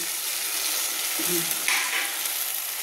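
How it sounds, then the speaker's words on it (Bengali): Fried chang fish tossed into a hot wok with spice paste, a steady loud sizzle with a brief spatter burst and stirring scrapes, no voices. "কড়াইতে আমি দিয়ে দিলাম, ট্যাং মাছগুলো আমি কড়াইতে দিয়ে দিলাম"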